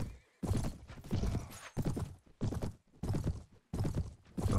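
Horse hooves clip-clop with neighing from a mounted horse in the medieval battle game Mount & Blade: Anno 1257, a rhythmic series of loud, close bursts that stop and start over several seconds.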